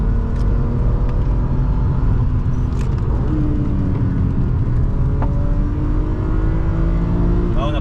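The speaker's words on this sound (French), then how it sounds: "Un moteur très agréable à entendre" BMW M3 E36 engine revving hard toward 7000 rpm, heard from inside the car as a loud, steady roar with rising harmonics and a gear change, with a voice speaking briefly over it.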